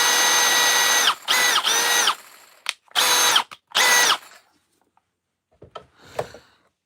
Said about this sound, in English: M12 hammer drill.